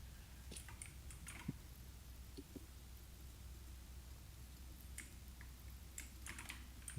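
A computer keyboard clicks in scattered, irregular bursts of typing. The keystrokes are faint over a steady background hiss during a game session, with no talk.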